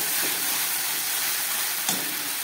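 Spice paste frying hard in a pan for a fish curry with aubergine and tomato, a steady loud broadband sizzle and hiss, close and unbroken, with a couple of faint stirring knocks.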